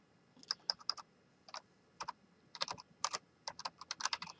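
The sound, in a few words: typing on a computer keyboard to log in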